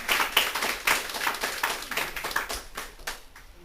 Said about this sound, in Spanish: Denle un fuerte aplauso al Señor porque está buscándote.